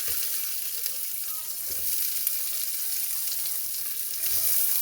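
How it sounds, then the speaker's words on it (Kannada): Spices sizzle and fry in two tablespoons of hot oil inside a heated pressure cooker while mutton curry is being made, giving a steady, close crackling hiss with occasional light stirring sounds. "ಹಾಕ್ಕೊಂಡು ಫ್ರೈ ಮಾಡ್ಕೊಳ್ಳೋಣ."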